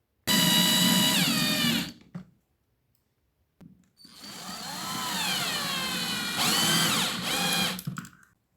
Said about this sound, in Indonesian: Dan kita bor bagian depan dan belakang sebagai nanti tempat untuk skrupnya.